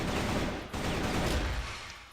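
Rapid bursts of AK rifle fire in the video game CrossFire crackle continuously for a couple of seconds, dense and loud, with no talking.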